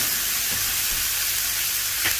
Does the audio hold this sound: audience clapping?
no